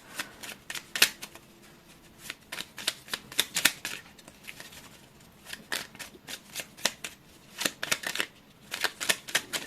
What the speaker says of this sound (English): Let's shuffle some more.